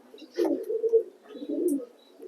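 Racing pigeons coo in a loft, two soft throaty rolling calls close by with a brief pause between them and little else around.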